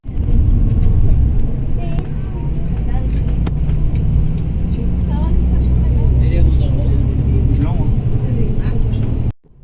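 Steady, loud engine rumble and road noise fill the inside of a bus on a long ride, a constant low drone with occasional clatter and faint voices underneath.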